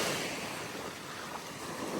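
Ocean surf breaking on a shore, a steady broad wash of crashing waves with wind noise, continuous and fairly loud throughout with no voices.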